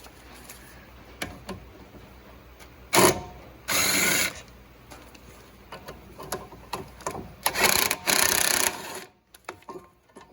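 A ratchet spins off the 18 mm caliper bracket bolts on a Ford Escape XLT during a front brake and warped rotor job, with rapid close bursts of clicking between quieter handling knocks and no talk.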